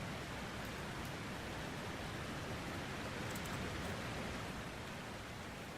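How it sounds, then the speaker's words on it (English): Steady rushing waterfall in the video game Dragon Age: Inquisition, a continuous broadband roar of falling water that holds at an even level throughout, with no talking over it. "I'm in the waterfall. How pretty."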